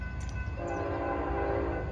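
A westbound Norfolk Southern train rumbles past on the Harrisburg Line near Wernersville while its horn sounds a steady, loud blast over the continuous roar of the cars.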